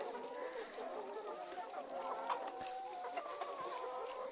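Chickens cluck and murmur together in a crowded egg-laying coop of around 120 hens, a soft continuous chatter with a few sharper calls, while someone speaks quietly over them.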